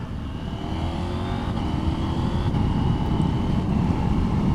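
A 2023 KTM 790 Adventure motorcycle engine pulls from low revs, a steady rising drone heard from the rider's position with wind rushing past.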